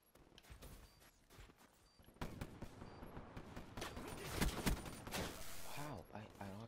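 Gunfire in the video game Black Ops 3, a dense fusillade of rapid shots that grows louder and busier after the opening seconds, with bursts layered over game noise and talk.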